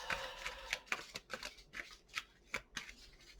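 Playing cards being shuffled in a series of quick riffling bursts, about a dozen crisp flutters in rhythm, close and clear with no talking.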